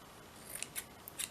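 Scissors snip through cheesecloth in a few quick, soft cuts, close and fairly quiet with no talking.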